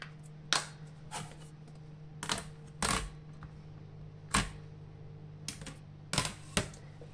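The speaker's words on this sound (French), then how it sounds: "Je vais tamponner avec de la Versafine" Several sharp, crisp taps and thumps land at irregular intervals over a quiet background as a rubber stamp inked with black Versafine is pressed firmly onto paper on a hard surface, close by.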